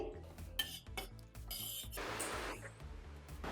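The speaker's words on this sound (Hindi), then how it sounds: "अब हम इसे इसी तरह से चलाते हुए इसमें उबाल आने देंगे" Milk being stirred in a pot as it heats toward a boil for homemade milk barfi, with a spoon scraping and clinking against the metal in a steady, close rhythm.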